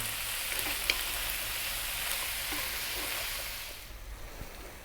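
Spinach leaves cook down in a pan for a vegan chickpea curry, giving a continuous soft sizzle with occasional stirring clicks and scrapes, steady before easing slightly near the end.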